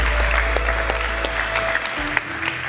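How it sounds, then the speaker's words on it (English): An audience at a newsroom conference closing ceremony applauds as a speaker is welcomed on stage, steady full clapping throughout with a low hum underneath. "Let's give him a big round of applause"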